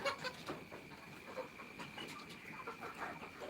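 Many chickens cluck together in a poultry shed while they are caught and lifted with the lights off, a dense, steady chatter of overlapping calls at moderate loudness throughout.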